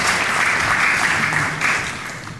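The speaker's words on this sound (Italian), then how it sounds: "Applauso" Brief, lively applause from an audience at an award ceremony, close and fairly loud, with clapping that stays dense and then begins to taper off toward the end.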